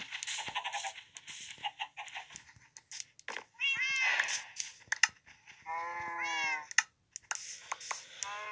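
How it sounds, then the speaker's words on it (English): Several short, high meows from cats in the video game Minecraft, scattered between other game sounds, with a few clear pitched calls near the middle and someone speaking softly at times. "Is there another cat in this pen?"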